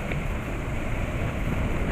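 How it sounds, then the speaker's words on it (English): Strong wind blows steadily against the microphone high on an antenna tower at 750 feet, a constant broadband roar and buffeting with no talk. "And it is pretty damn windy up here."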